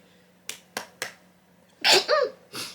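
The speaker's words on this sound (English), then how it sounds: "I need to sneeze." Three quick sharp intakes followed by a loud, voiced sneeze burst and a softer trailing exhale, close to the microphone in a quiet room.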